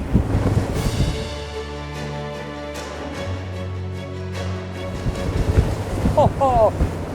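An Azimut 66 motor yacht roars steadily across open water at over 34 knots, with heavy wind buffeting the microphone and waves slapping against the hull.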